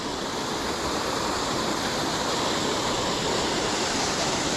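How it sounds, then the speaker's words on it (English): Davidson's Linn waterfall pours in a steady, loud, continuous roar of rushing water, close by and unbroken, with no voices over it. "Davidson's Linn waterfall here."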